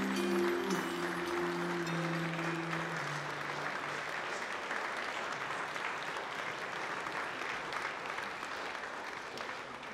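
Sustained audience applause following a folk dance concert at a palace of culture, dense even clapping from a large hall that slowly thins toward the end, with a lingering musical tone fading out at the start.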